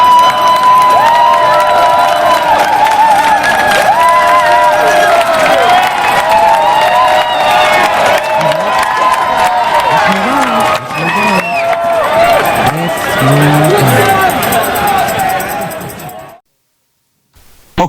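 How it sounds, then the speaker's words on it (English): A large crowd cheers, claps and shouts loudly and continuously for a honoured civil rights figure at a public event, the roar sustained for about sixteen seconds before cutting to silence. "So y'all make some noise for Mr."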